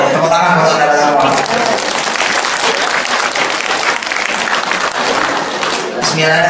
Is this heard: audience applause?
yes